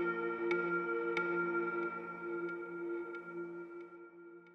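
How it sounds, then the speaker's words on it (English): The Dreamy Dulce Bells synth bell from Logic Alchemy plays alone, a few soft struck bell notes about every half second over a sustained shimmering tone, clean and gentle. "And I used a bell from Alchemy, if I remember. It's called the Dreamy Dulce Bells."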